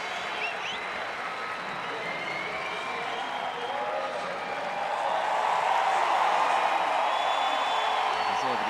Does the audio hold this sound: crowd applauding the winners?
yes